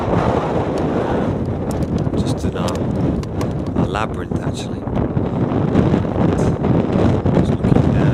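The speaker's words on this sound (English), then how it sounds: "It's a bit of a windy day" Strong gusting wind buffets the microphone outdoors on a breezy afternoon, a steady broadband roar lasting throughout, with a person talking over it.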